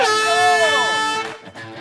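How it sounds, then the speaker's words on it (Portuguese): An air horn signals the start of a DIY building contest with one loud, sustained blast that holds for about a second before cutting off, followed by brief noise. "quando eu disser já ao som da buzina zina zina"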